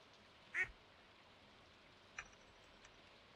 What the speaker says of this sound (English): Would someone like to name my duck?